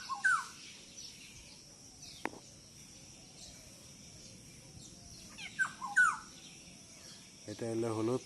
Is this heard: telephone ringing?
no